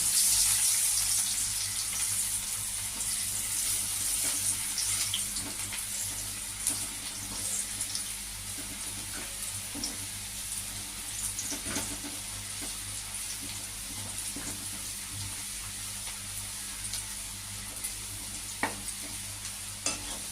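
Chopped onions frying in a pan for pabda fish jhal, a continuous soft sizzle with frequent stirring scrapes, alone and fairly quiet, with a faint high whine at the start.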